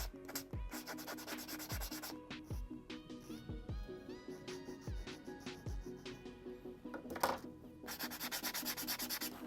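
Close, steady sanding of a PVC copy of a Jackall Tiny Magallon fishing lure: rhythmic rubbing strokes, evenly spaced and loud, with a brief rougher burst near the end and no talking.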